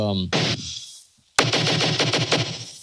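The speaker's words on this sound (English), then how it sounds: "sort of gunshot sound, and then this other gunshot sound, which are layered together." A rapid volley of layered gunshots, sharp, loud and punchy, with a short ring and a pause before a second burst of fast repeated shots.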